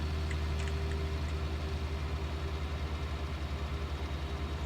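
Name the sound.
tractor engine pulling a lime spreader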